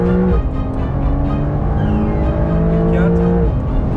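Race car engine at the GP Explorer event, revving hard on track and shifting up through the gears with sharp drops in pitch between pulls. The loud, continuous engine drone carries a voice talking over it.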